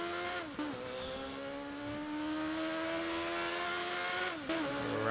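A loud car engine roars steadily in the Burnout Paradise Remastered racing game, its pitch climbing and holding with a few brief shifts and dips, close and continuous throughout.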